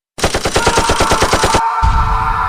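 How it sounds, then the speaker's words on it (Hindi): A strange fictional gun fires in a rapid, loud burst of about a dozen evenly spaced shots, then a sustained electronic hum takes over as the effect continues. "अगले ही पल बबोला के हाथ में थमी विचित्र गन ने अपना कमाल दिखाया।"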